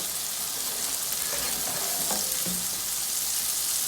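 Mushrooms fry in a pan for pork fried rice, a steady loud sizzle and crackle with a few faint scrapes of stirring.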